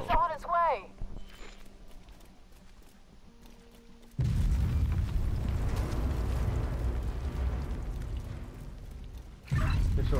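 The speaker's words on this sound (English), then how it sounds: "They've got some kind of active protection system intercepting our mortar rounds." Mortar barrage explosions in The Division 2 video game: a dense, sustained rumbling roar of impacts that sets in abruptly and rolls on for several seconds, with game voices and sounds before it.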